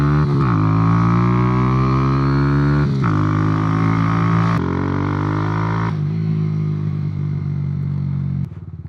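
A small motorcycle ridden at around 55 miles an hour, its engine droning loud and close with rising and falling pitch as it shifts through gears, steady throughout with no talk.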